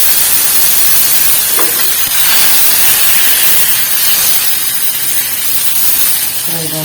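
Butter sizzling loudly in a hot frying pan on a stove, a steady broadband hiss running unbroken through the whole stretch, close and dominant with no pauses.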